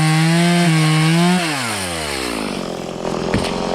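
A chainsaw cutting through a tree as it gives way outdoors while clearing deer habitat, a loud steady engine whine that drops in pitch as the cut finishes, followed by a rough crunching rumble of the trunk coming down.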